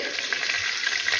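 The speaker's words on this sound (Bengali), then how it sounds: "এবার কড়াতে তেল দিলাম, একটু শুকনো লঙ্কা ফোড়ন দিলাম, এবার কালো জিরে" Dried chilli and black cumin tempering sizzling in hot oil in a kadai, a short close crackling hiss with small pops, no voices.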